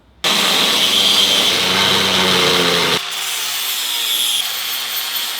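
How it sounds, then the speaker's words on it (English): An angle grinder cuts a notch into a steel frame tube for a drift trike, a loud, close, continuous abrasive whine that starts abruptly, then drops to a lighter grinding tone about halfway through. "I'm just going to cut this out with the angle grinder"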